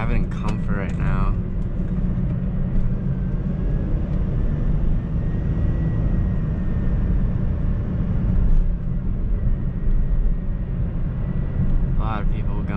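A 2005 Mercedes-Benz C240 4Matic Luxury Package is driven on the road, heard from inside the cabin as a steady low engine and road rumble that continues under someone talking throughout.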